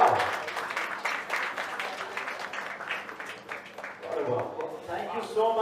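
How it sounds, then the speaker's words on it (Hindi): Applause at a production company launch event, an audience clapping steadily throughout, with voices talking over the clapping. "जोरदार तालियां."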